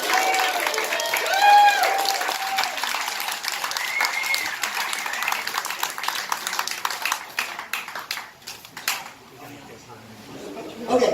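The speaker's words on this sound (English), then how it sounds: "So give him a round of applause." A person talks over a room crowd, then an audience breaks into steady applause that fades toward the end.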